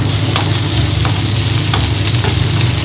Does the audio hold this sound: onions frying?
yes